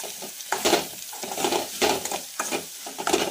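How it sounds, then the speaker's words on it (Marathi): Spices and powdered masala for chana masala frying in oil, stirred in a pan with rhythmic scraping strokes about every second over a steady sizzle, close and clear. "याला जोवर तेल सुटत नाही तोवर असे फ्राय करून घ्यायचे आहेत"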